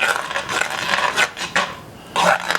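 A spoon stirs ingredients into a pot of catfish stew over rice, giving a run of close scraping and clinking strokes with short pauses and no talk.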